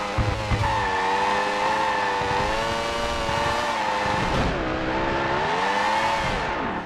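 A racing video game car engine drones loudly and continuously, its pitch rising and falling, with tire squeal mixed in and no voices.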